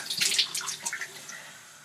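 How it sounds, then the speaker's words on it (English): Water splashed onto the face at a bathroom sink while rinsing off face wash, a short run of soft, close splashes and trickles that fade out. "But I just like to splash water."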